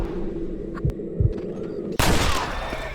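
Gunshots in Red Dead Redemption come as a couple of low thuds early on, then a loud sharp blast that opens into sustained roaring, busy noise, close and forceful with no voices.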